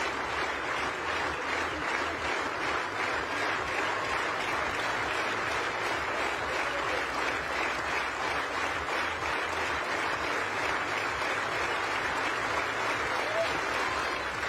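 Sustained applause from a home crowd at a women's U20 high jump final, steady and dense for the whole stretch as they cheer on a jumper's last attempt at 1.8 meters, with no clear talk above it.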